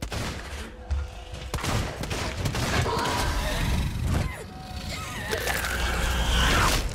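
Revolver shots and heavy combat noise from the video game Alien: Isolation form a loud, dense burst of gunfire with thuds and rumble filling the whole stretch, with no voice.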